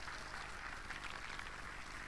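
Crowd applause after a Mehter military band concert, a steady dense wash of clapping throughout, fairly distant and even in level.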